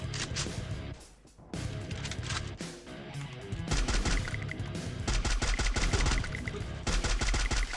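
Rapid bursts of gunfire from the shooter game Free Fire, loud and near, with sustained automatic volleys building toward the end and a few brief pauses between strings of shots.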